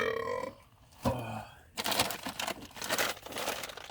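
A single burp right after eating dark chocolate almond butter cups, close and fairly loud, followed by crinkling packaging and a short voice.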